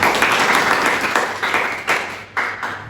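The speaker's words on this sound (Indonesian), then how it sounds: "Tepuk tangan, Mendo." Audience clapping at a teaching session in an Indonesian lecture setting, dense steady applause that swells in a few waves and fades slightly toward the end, no talk over it.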